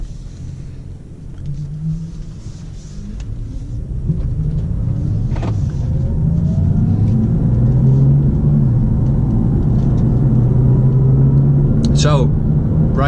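BMW M2 tuned by PP Performance to 450 hp driving on the road, its engine rumbling low and swelling as it accelerates, a steady cabin drone with a brief chirp near the end; someone talks over it.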